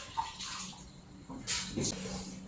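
Tap water runs steadily while lentils are rinsed in a home kitchen, with a soft continuous wash and a few brighter splashy bursts near the end.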